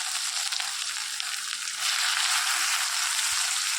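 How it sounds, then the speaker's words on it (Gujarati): Garlic, green chilies, peanuts and onion sizzle in hot oil, a loud, steady hiss of frying that swells slightly about halfway through and carries on without a break. "આની અંદર લસણ, મરચાં, સિંગદાણા, ડુંગળી ને ટામેટાં. થોડું તેલ થઈ જાય એટલે આપણે વઘારીએ."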